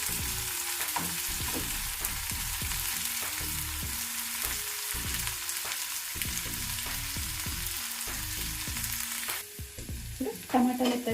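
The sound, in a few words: tomato pieces cooking in a pan for pav bhaji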